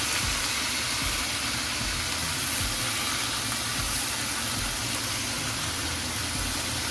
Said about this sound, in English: I'm going to add in my cabbage with my bacon